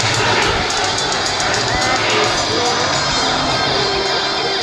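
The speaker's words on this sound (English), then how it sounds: "the A-10 Thunderbolt 2. Told you it was maneuverable." A radio-controlled scale model A-10 Thunderbolt II jet performs a maneuvering demonstration at the 2013 Blue Max model air show. A steady, loud jet roar fills the whole clip, with crowd noise and some cheering mixed in.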